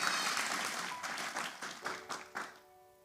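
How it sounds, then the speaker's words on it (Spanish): Church congregation applauding during a sermon, a brief burst of many hands clapping that fades into scattered claps over about three seconds. "Ese aplauso es para el Señor,"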